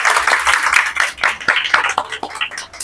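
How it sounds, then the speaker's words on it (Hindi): An audience applauds a doctor at a dermatology course event, with dense, steady clapping from many hands that swells and dips slightly over a few seconds. "मैं चाहूंगी आप सब जोरदार तालियों से डॉक्टर सऊद के लिए क्लैपिंग कर दें."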